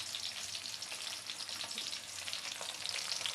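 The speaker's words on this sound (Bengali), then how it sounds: "শাহেক ভাই মাছ ভাজি শুরু করে দিয়েছে" Pieces of hilsa fish sizzle in pure mustard oil, a constant gentle crackling hiss with small bubbling pops that holds steady the whole time. No one speaks.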